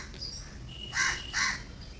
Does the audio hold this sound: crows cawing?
yes